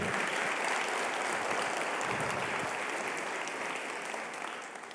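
Steady, dense applause from a large church congregation fills the room continuously, slowly fading slightly toward the end.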